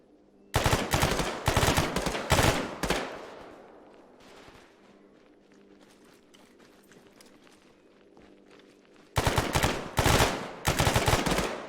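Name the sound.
gunfire during security training exercise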